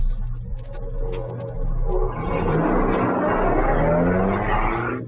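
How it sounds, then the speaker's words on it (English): A car engine rises as the vehicle drives off, a building roar with shifting pitch that swells after the first couple of seconds and stays loud to the end, with no speech over it. "Turn your car around, my friend."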